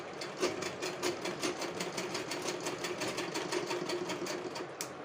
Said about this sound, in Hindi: हाफ इंच इस तरह से कॉर्नर्स पे हाफ इंच का हम नेक स्टिच कर देंगे